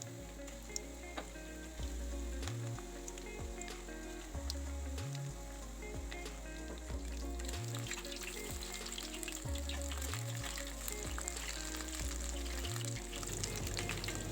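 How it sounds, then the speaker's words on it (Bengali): Marinated chicken pieces fry in hot oil in a kadai for a Bengali chilli chicken, a faint, steady bubbling sizzle with scattered crackles that grow busier toward the end. "একে একে করে ম্যারিনেট করা চিকেনগুলো তেলে ছেড়ে দেব।"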